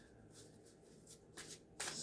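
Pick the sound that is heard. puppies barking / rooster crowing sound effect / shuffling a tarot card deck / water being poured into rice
shuffling a tarot card deck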